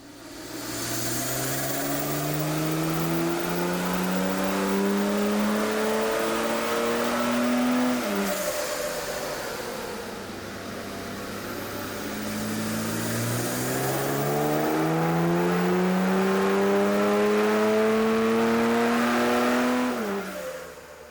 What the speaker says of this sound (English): We're going to let Tom crack on with the tuning and see what power we can get out of this N57 Defender.